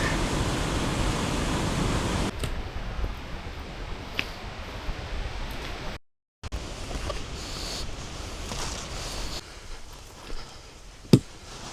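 Half Moon Brook at Stiles Cove, Newfoundland and Labrador: loud rushing water that is broad and steady at first, then softer with a brief cutout and a few sharp splashes or knocks near the end.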